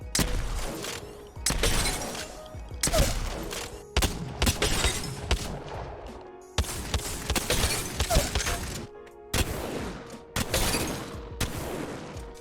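An EVA-8 shotgun in Apex Legends fires in a rapid run of loud, heavy blasts, each a sharp crack with a booming tail, arriving in bursts separated by short pauses, close and without speech.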